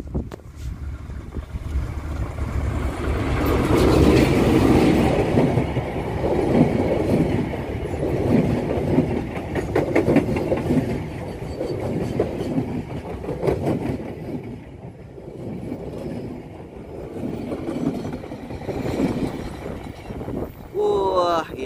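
A Garut commuter train from Purwakarta rumbles past close by for the whole stretch, a heavy rolling roar with rhythmic clattering of wheels that eases slightly then swells again.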